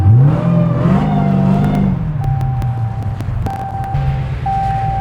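Dodge Hellcat with an intermittent starter fault driven on a test run, its engine revving up and shifting as it accelerates, loud and close, followed by a steadier rumble with brief ticking clicks.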